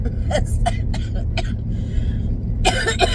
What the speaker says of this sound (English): Y'all, I still have this nagging cough